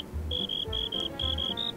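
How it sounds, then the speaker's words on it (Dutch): Crickets in GTA, a high, steady chirping in short repeated bursts with brief gaps, fairly close, over a low rumbling background. "Ik vind het wel vet dat die krekels ineens beginnen te krekelen."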